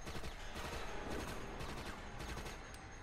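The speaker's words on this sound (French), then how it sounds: "j'ai un gros fusil d'assaut qui fait beaucoup de dégâts" Assault rifle fire in Resident Evil: Operation Raccoon City comes as rapid, repeated bursts of shots. They are fairly faint and distant, spread across a busy background with no voices.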